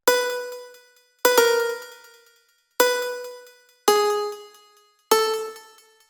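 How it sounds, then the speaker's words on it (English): Five bright, bell-like sampled Korg M1 piano chords struck one at a time at a steady pace, each ringing out and fading before the next. "it's made with a sample of the M1 piano"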